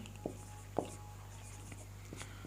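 Pen strokes scratch faintly on paper as a Sanskrit translation is written out by hand, a few soft taps and scratches over a steady low room hum.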